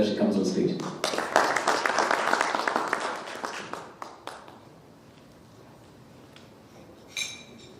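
A conference audience applauds as a speaker walks on stage, a burst of clapping that is strong for a few seconds then thins to scattered claps and quiet room noise.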